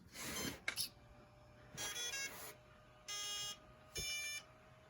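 A brushless ESC in a Redcat Racing Lightning EPX RC car chirps on power-up, giving a series of short, clear electronic beeps with even gaps between them, faint and close.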